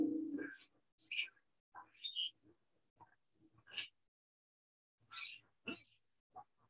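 Super pigeon creature in the Spore video game's tribal stage gives a series of short chirping, cooing calls in separate bursts, with talk around them.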